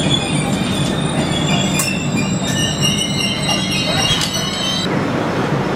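The 12863 Howrah–SMVT superfast express runs near Balugaon, Odisha, with a loud, continuous rumble and high metallic wheel squeals rising and fading over it.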